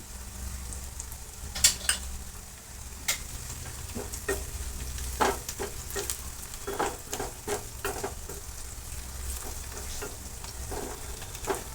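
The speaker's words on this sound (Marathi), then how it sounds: "हळद देखील व्यवस्थित परतून घेतलेले आहे आपण" Turmeric and onion frying in hot oil in a pan, stirred with a steady sizzle and sharp scraping clatters of a utensil against the metal, fairly close, with no voices.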